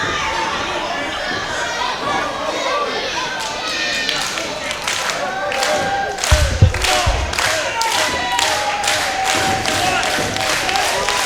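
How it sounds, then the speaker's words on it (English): A wrestling crowd cheers and chatters steadily for the CCW tag team champions at the start of a title match, a dense, roaring mass of voices with shouts and claps rising and falling throughout. "Crowd firmly behind the current CCW champions"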